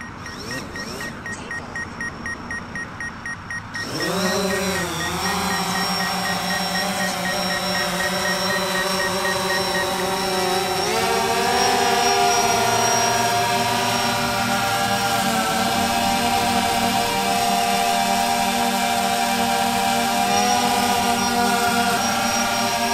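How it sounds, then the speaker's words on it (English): A DJI Phantom 4 Pro quadcopter drone carrying a 1 pound dumbbell spins up after a short hum, its rotors settling into a steady, loud whine that shifts slightly in pitch as it lifts the load, with no talk over it. "we're going to see how the drone reacts lifting this much weight"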